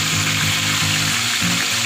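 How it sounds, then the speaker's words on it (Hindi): A mutton leg, or raan, frying in hot oil in a pot, giving a loud, dense sizzle close up, steady across the brief moment with faint low bubbling pulses beneath and no speech. "अब इसमें रान रख के आराम आराम से फ्राई करूँगी।"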